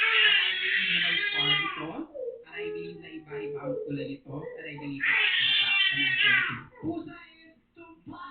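A cat meows in two long, loud, drawn-out cries, one at the start and one near the end, with a person talking in between.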